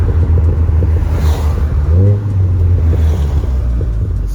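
A modified Volkswagen Golf R engine rumbles loudly and steadily, its low drone swelling into a brief rev around the middle before settling back to a droning cruise.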